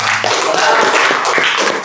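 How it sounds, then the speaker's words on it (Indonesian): Classroom of students clapping together after a closing prayer, a dense, steady burst of hand claps with some voices mixed in, fairly close and loud. "Tepuk tangan dulu dong buat kita semua."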